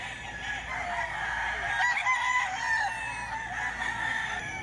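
A rooster crows loudly nearby with a drawn-out, strained call at a market, amid faint background clucking.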